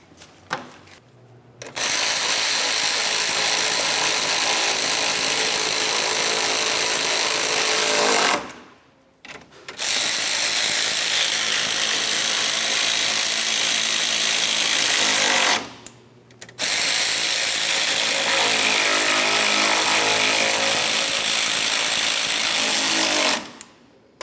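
A power tool rattles loudly in three long bursts, tightening bumper cover bolts on a 2001–2005 Ford Explorer Sport Trac, with brief pauses between runs.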